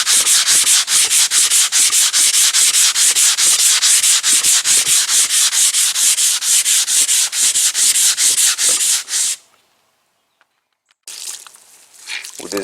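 Rapid rhythmic back-and-forth rubbing of a sanding block on a wet, guide-coated fiberglass dashboard repair of a Chevy Caprice, loud and close, then it stops and a brief scrape follows.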